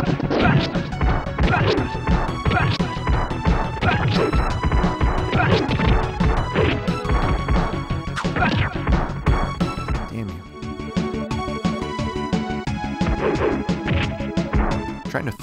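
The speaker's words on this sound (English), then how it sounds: "I thought I could break those statues" Statues smash in the Ninja Warriors arcade-style video game, with loud, dense crashing and thwacking hits piling up over continuous game music throughout.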